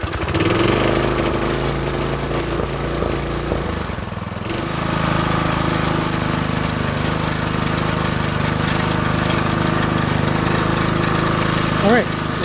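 A garden tiller's small engine, started after sitting unused, runs loud and steady close by, with a rough uneven stretch early on before it settles into a continuous droning run.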